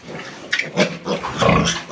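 A two-week-old piglet grunts in a few short, close bursts, fairly loud, with no talking over it.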